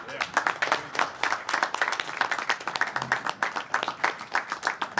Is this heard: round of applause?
yes